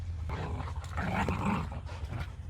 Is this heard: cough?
no